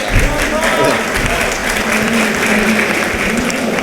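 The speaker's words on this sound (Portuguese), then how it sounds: "Palmas para ele também." An audience at a Java technology conference talk applauds, a dense, steady clatter of many clapping hands that carries on for several seconds, close and loud.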